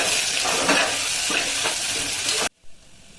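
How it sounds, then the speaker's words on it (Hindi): Onions with salt frying in a pan for a festival vegetable pulao, a loud close sizzle with rhythmic scraping stirs that cuts off abruptly near the end, followed by a brief knock. "जस्ट पियाज को जल्दी भाजबा पई मु लूण माथि ऐड कली।"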